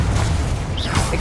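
The Confringo blasting spell goes off in Hogwarts Legacy as a dense, booming explosive rumble. It is loud and sustained, with a bright burst near the end.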